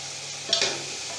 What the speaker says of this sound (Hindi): इसको भी हम अच्छी तरीके से भून लेंगे।